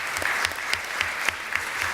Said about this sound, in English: So very warm applause to Barbara Berninger,